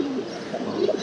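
Pigeons coo softly in a loft, with a few low, rolling calls close by over a faint, steady background hum.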